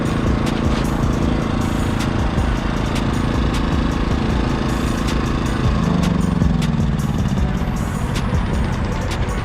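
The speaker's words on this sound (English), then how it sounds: "Then we're gonna shut off the generator as well." A generator runs at a hotshot trucking rig, producing a loud, constant mechanical drone with a slight shift in tone partway through and no talking.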